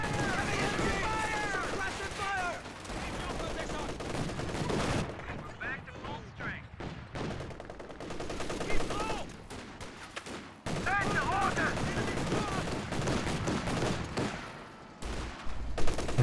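Luchs light tank firing its main gun in a Company of Heroes 2 battle, with repeated sharp cannon and gunfire bursts amid rattling fusillade and explosions, under continuous commentary talk.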